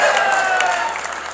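Audience applause at a Hindi poetry gathering (kavi sammelan), a dense burst of clapping that fades slightly over its short length.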